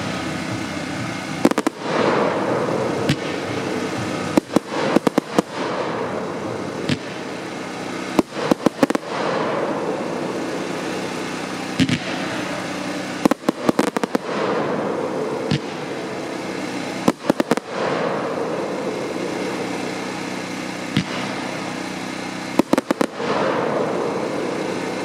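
Two 49-shot fan-pattern firework cakes from one assortment fire back-to-back, a long run of loud sharp reports and crackling bursts in quick irregular volleys over a steady hiss.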